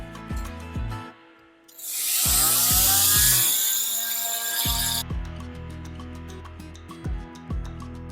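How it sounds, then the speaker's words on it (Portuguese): A thin drill bit bores holes in clay for a handmade ceramic lamp, making a loud hissing, grinding burst of about three seconds in the middle, set among repeated plucked, ringing tones before and after. "Agora, é só furar."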